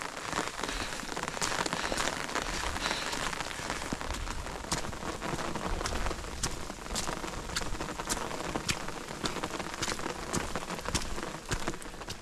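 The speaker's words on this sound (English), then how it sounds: "Today's the day with all the rain." Steady rain falls on an outdoor camp in Philmont, giving a continuous dense patter with scattered sharper drop hits on nearby surfaces. The sound is moderately loud and even, with no voices.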